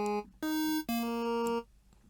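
Bass patch from the Vital synth built on the Deep Expedition custom growl wavetable: a few bright, buzzy sustained notes in short bursts with pitch shifts between them, played alone and fairly loud.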